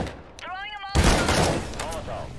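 Gunfire in a shooter video game: a sharp burst of shots cuts in near the one-second mark and rings out loud over a player's excited commentary.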